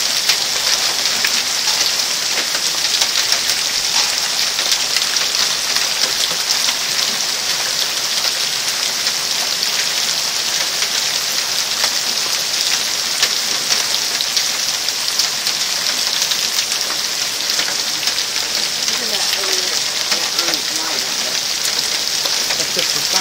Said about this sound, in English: No, that's all hail.